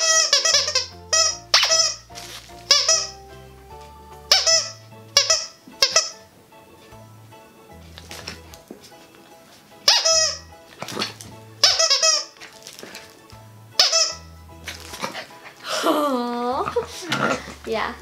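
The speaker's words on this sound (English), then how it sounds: "And this one squeaks really loud." Loud, high-pitched squeaks from a dog toy come in repeated bursts, some long and wavering, with a person talking in between.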